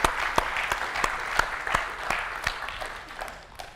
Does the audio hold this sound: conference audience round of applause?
yes